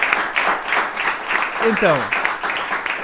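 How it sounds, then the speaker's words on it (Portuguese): Audience applause at a live talk show breakfast event, a steady wash of clapping that runs the full length while someone speaks over it. "Uma salva de palmas para vocês"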